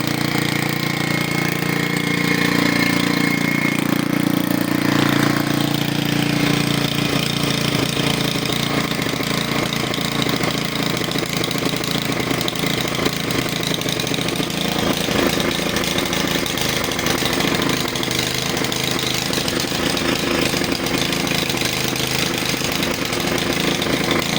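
A Honda walk-behind tractor engine runs at a steady idle, a loud continuous mechanical drone that stays even and unbroken throughout with no talking.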